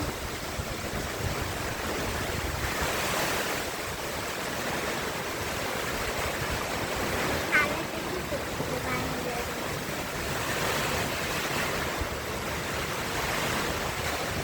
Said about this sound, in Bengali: আপনারা দেখতেছেন ঘূর্ণিঝড় রিমাল এই তাণ্ডবটাই চালাচ্ছে।